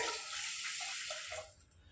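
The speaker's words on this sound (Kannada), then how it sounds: "ಇದಕ್ಕೆ ಒಂದು ಗ್ಲಾಸ್ ನೀರು ಹಾಕ್ಬೇಕ್ರಿ" A glass of water poured onto sugar in a pan for jamun syrup, a brief close splashing gush that tapers off into quieter trickling within two seconds.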